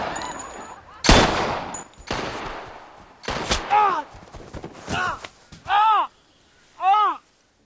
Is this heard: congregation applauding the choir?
no